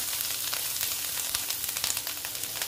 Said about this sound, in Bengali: দেখো পেঁয়াজগুলো প্রায় মোটামুটি ভাজা হয়ে এসছে।